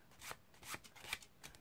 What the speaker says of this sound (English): pick up your 9 or 10 cards off the bottom of the pack and shuffle them onto the top